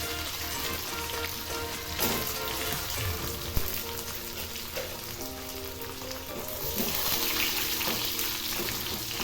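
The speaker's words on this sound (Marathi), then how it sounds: "लसूण चिरलेला, बारीक चिरलेला लसूण, हिरवी मिरची, बारीक चिरलेली हिरवी मिरची हे छान असं परतून घ्यायचं." Finely chopped garlic and green chillies sautéing in hot oil for a radish vegetable dish, giving a steady, close sizzle and crackle throughout with a few brief clinks, no talking.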